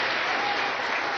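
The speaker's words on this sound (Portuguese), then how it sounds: "A Ele uma salva de palmas, aleluia!" A church congregation bursts into applause, a loud, dense and even sheet of clapping filling the short moment without pause.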